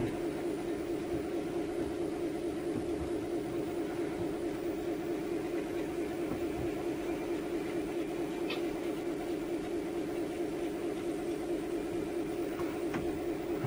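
A small train rumbles steadily along with a constant motor hum and faint clicks of track, no talking, running continuously at moderate loudness.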